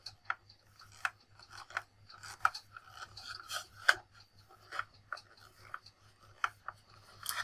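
Screws being worked out of a Lixada mini moving head stage light, heard as faint close scraping, ticking and small rasping clicks at irregular intervals over a low steady hum, no talk.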